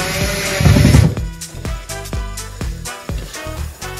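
A power drill driving short screws into a bathroom fitting, several quick whirring bursts with sharp bites as each screw seats, close and loud.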